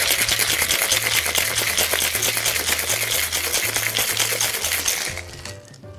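Rapid, steady rattling of ice shaken hard in a cocktail shaker with a ginger beer mocktail, loud and close, continuing for several seconds before tapering off at the end.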